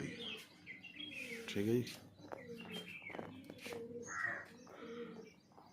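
Pigeons coo softly in short, repeated bursts on a rooftop, mixed with faint chirps, while someone speaks over them.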